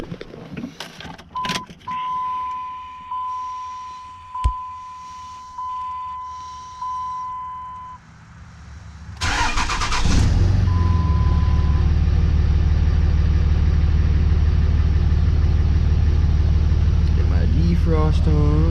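A third-generation Cummins diesel pickup starts and settles into a loud, steady idle while warming up in neutral, after earlier clicks, a sustained cabin tone and brief mechanical sounds; the low diesel rumble dominates the second half.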